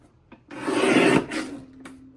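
Paper trimmer blade sliding through dusty blue and sky blue cardstock in a card-making workshop: one loud rasping cut lasting under a second, followed by a softer scrape and small clicks, with no talking.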